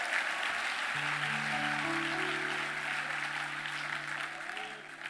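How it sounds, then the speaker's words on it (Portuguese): A church congregation applauds for Jesus, a continuous broad wash of clapping that fades slightly toward the end, with sustained keyboard tones entering beneath it. "Pode aplaudir Jesus aí, se quiser."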